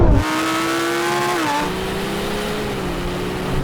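Supercars including a McLaren 750S, Ferrari 296 GTB, Porsche 911 Turbo and Lamborghini Huracán Performante launch hard off the line in a drag race, engines roaring loudly with rising revs and a gear change.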